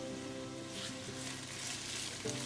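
Whole sprigs of thyme, oregano and rosemary sautéing in a pot for minestrone soup, a steady close sizzle with soft stirring, heard alone without any talk.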